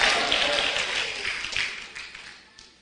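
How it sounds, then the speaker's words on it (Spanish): A church congregation applauds during a sermon, a broad wash of clapping from many hands that starts full and gradually fades over a few seconds. "Dele un aplauso a Jesús por eso."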